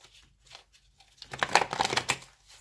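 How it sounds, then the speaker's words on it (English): Quick papery riffling of tarot cards being shuffled, starting with a few soft handling noises and building to a denser, louder burst of flicks. "Let me shuffle this one."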